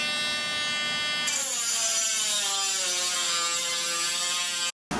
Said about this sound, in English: So I'm gonna go ahead and Dremel it out a little bit.